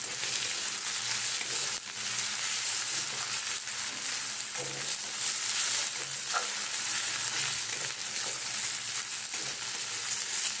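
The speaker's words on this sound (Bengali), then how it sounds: "চলো ভেজে নিই" Bay leaves frying in hot oil in a pan, a continuous bright sizzle with occasional stirring scrapes, steady and close throughout.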